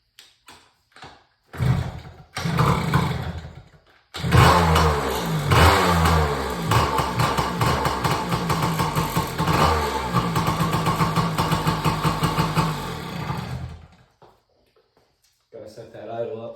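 A Yamaha PW80 dirt bike with a freshly rebuilt carburetor and petcock fires after several short cranking bursts, runs steadily at a loud, slightly uneven idle for about ten seconds, then cuts out, with a voice speaking near the end.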